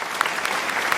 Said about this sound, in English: So please let's applaud him again